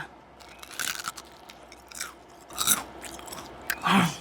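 Deep-fried battered shrimp is chewed up close, giving a series of loud, crisp crunches between quieter mouth sounds.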